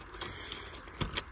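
Three new keys for a freshly fitted patio door lock barrel jangle briefly in the hand, with two quick metallic clinks near the end.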